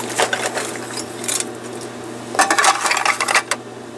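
Lead wheel weights slide off a piece of metal into a melting pot with bright metallic clinks and rattles, a scattered clatter near the start and a denser burst in the second half, over a low steady hum.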